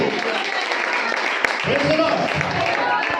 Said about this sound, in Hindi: कोई जोरदार ताली बजा के उसे महिमा दे।